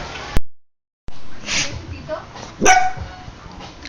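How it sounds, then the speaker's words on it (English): Pet dogs bark a few times in a home kitchen, a couple of sharp, fairly close barks and yips heard amid a person talking, after a brief cut to silence. "Those are my doggies."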